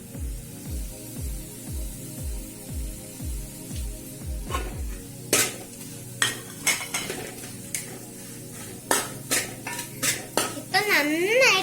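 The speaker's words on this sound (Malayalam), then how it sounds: "ഇളക്കി കൊടുക്കണം" A metal spoon stirs ginger with turmeric and chilli in a pan, first in a quick series of scraping strokes, then in sharp, irregular clinks and taps against the pan over a soft sizzle.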